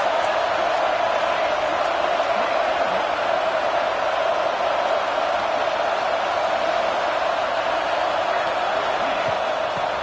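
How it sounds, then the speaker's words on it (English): An American football stadium crowd roars as the home fans try to rattle the opposing offense, a steady, loud wall of noise that holds evenly for the whole stretch without any break or distinct voice. "This crowd trying to make life miserable for this offense."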